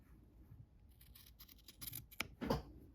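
Scissors cut through pillow cover fabric close up, with a series of soft snips building to a sharp closing click and a final louder crunch of the blades, in an otherwise quiet room.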